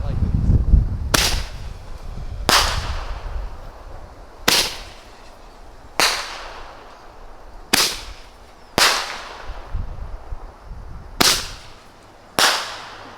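A Pyro Diablo firework cake fires for Fourth of July, loud sharp reports going off one after another at a steady pace of roughly one every second or two, each followed by a short crackling tail.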